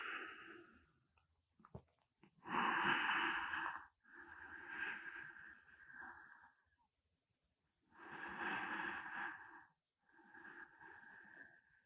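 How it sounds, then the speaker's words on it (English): Slow nasal breathing during a beginner yoga session, with long, close inhales and exhales in a steady rhythm and quiet pauses between breaths. "Breathing through the nose."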